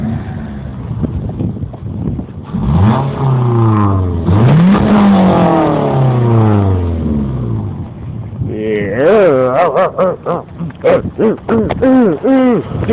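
A Scion xD with an aftermarket intake revs hard, rising and falling in long sweeping pulls, then a burst of quick repeated revs, loud and close with voices cheering in between.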